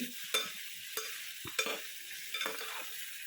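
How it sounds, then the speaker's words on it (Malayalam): Vegetables for aviyal cooking in coconut oil in a pan, with a quiet, steady sizzle broken by several scraping stirs at irregular intervals, close by and without talk. "ഇനി ഈ എണ്ണയിൽ കിടന്നിട്ട് വെജിറ്റബിൾസ് ഒന്ന് കുക്കായി വരണം."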